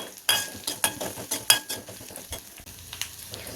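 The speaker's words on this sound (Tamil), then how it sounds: "இஞ்சியும் பூண்டும் நல்லா பொன்னிறமாக வதங்கி வந்து வரணும்" Ginger and garlic being sautéed in a pan for rasam: a soft background sizzle punctuated by a quick series of sharp scraping and tapping stirs against the pan, close and uneven, with no talking.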